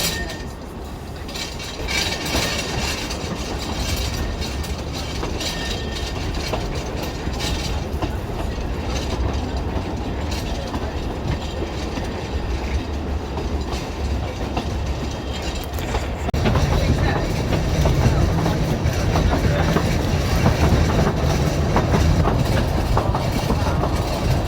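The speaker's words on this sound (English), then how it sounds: "Quarry Sidings is diesel shunter number 12 with an engineering train." Diesel shunter locomotive No. 12 on the narrow-gauge Talyllyn Railway hauls an engineering train past Quarry Sidings, with steady wheel clatter, rail clinks and a low engine drone that swells as it draws closer.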